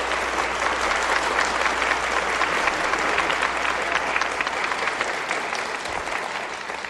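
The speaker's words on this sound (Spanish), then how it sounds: "pero licenciado Humberto Guevara Pimentel, un aplauso para él." Sustained applause from an audience at a televised talk event honouring a guest, a dense even clapping that fills the whole stretch at steady loudness.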